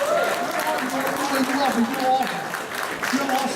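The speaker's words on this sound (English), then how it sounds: "give her a better round of applause" Audience applause fills a hall at a Latino American chamber of commerce awards gala in Essex County, steady and fairly loud, with a voice speaking clearly over the clapping throughout.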